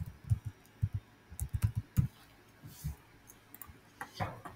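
Typing a search term on a computer keyboard, with irregular clusters of close, crisp keystrokes followed by a few scattered taps and pauses.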